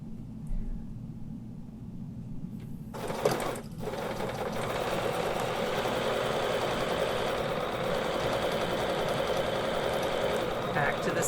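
A sewing machine stitches a quilt guided by a Westalee ruler. After a quieter opening of a few seconds it starts a steady, close mechanical hum of rapid stitching that continues without a break.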